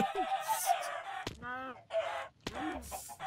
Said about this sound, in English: It was though a thousand chickens screamed all at once and then were immediately